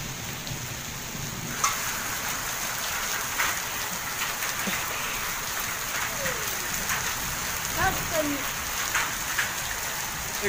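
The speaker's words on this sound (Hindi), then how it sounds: "तो गाइस जहाँ पे फिर से वर्षा लग चुकी है," Heavy rain pours steadily in a dense hiss during a thunderstorm, with scattered drops and taps and faint voices in the background.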